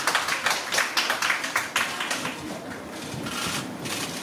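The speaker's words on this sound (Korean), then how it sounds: "박수로 맞이해 주시기 바랍니다" An audience claps to welcome models onto the stage at a promotional charity event for Shinsung Tongsang thermal underwear, steady applause at first that thins into a softer patter toward the end.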